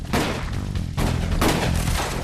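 Loud, close bursts of gunfire from a battle in the Old West, sharp cracks and booming volleys crowding together in rapid, overlapping bursts with no voices.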